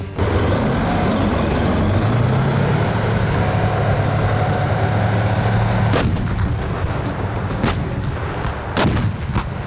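Tank main guns firing at enemy tanks during live gunnery, two sharp loud reports near six and nine seconds cutting through a steady roar of engines and vehicle rumble, with no talking.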